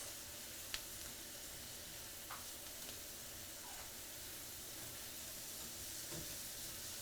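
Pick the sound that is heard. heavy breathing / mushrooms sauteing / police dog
mushrooms sauteing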